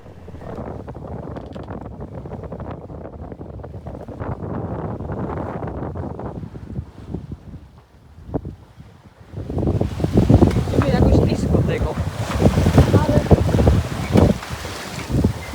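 Gusty wind buffets the microphone aboard a sailboat under way, roaring in uneven surges with the boat's rushing water beneath, growing stronger toward the end while people talk over it.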